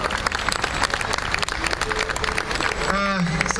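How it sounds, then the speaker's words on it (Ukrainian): Audience applause for a band at the Soli Deo Gloria festival performance, dense sustained clapping filling the room with a voice briefly rising over it near the end. "Ваші оплески для прекрасного гурту."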